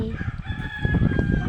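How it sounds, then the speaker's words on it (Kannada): A rooster crows loudly and nearby among a flock of feeding chickens, its drawn-out call sitting over soft clucking and farmyard bustle. "ನೋಡಿ ಕೋಳಿಗಳೆಲ್ಲ ಮೇವು ತಗೋತಿದ್ದಾವೆ."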